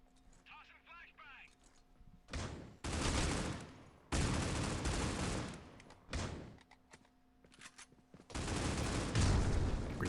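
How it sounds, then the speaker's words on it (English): A grenade explodes in the mobile shooter Critical Ops during a tournament final, with loud bursts of blast and gunfire noise in broken stretches after a short quiet electronic opening. "Grenade going off right in front of Reckles"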